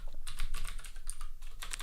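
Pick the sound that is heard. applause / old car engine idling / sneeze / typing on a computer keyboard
typing on a computer keyboard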